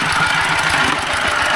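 A tractor engine chugs steadily at close range with a rhythmic low knocking idle and no voices.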